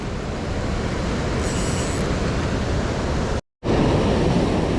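Rushing river water in Yosemite in winter, near Nevada Fall, a loud, steady broadband roar that drops out for a split second before resuming.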